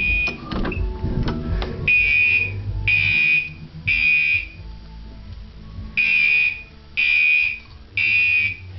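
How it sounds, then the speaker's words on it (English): A fire alarm blares in loud, evenly spaced one-second beeps with short gaps, preceded by a few seconds of clattering and shuffling noises. "Shut off fire alarm."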